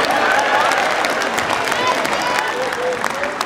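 A crowd applauds a contestant at a Samoan fa'afafine pageant in Auckland, steady dense clapping from many people, loud and continuous throughout with a faint murmur and cheers mixed in.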